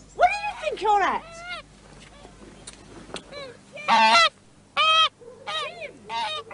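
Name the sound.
goose honking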